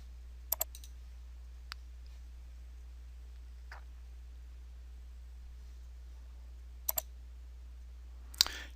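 Sparse computer mouse clicks while working in Revit modelling software, a few sharp isolated clicks and double clicks spread over quiet room tone.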